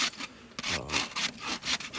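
A new, sharp rasp filing a horse hoof during shoeing, with rough scraping strokes repeating about every quarter to half second, close and fairly loud, with no talk.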